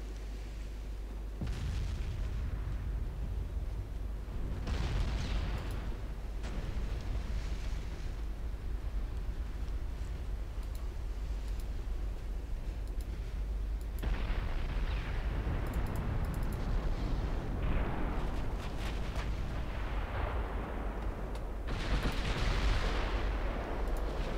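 Deep booming naval gunfire from a video game, Ultimate Admiral: Dreadnoughts, rumbles in bursts over a low continuous engine drone, with several heavy blasts spread across the span.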